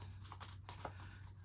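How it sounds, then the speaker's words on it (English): Playing cards shuffled by hand during a test of a Dark World deck, a soft, faint riffling rustle with a few light flicks over a low steady hum, no talking. "Shuffle up our hand really quick here."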